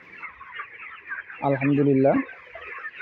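Broiler chickens of a company grade stock, 32 days old, cluck on a poultry farm, a steady murmur of the flock with one louder, drawn-out call standing out near the middle; someone speaks briefly.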